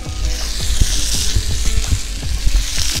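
Venison backstrap sears in a hot pan that is not cast iron, giving a steady loud sizzle with crackling pops and spits throughout.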